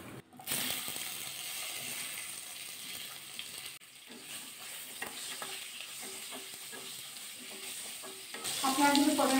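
Pointed gourd (potol) pieces fry in hot oil in a wok, a steady close sizzle with scattered crackles and stirring, a sharp burst of louder spitting near the end; no talking.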